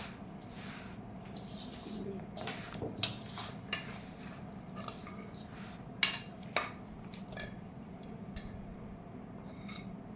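Mango pickle paste being stirred in a pot for Andhra avakaya: soft wet squishing with scattered light clinks of a utensil against the pot, a few sharper knocks, fairly quiet and close.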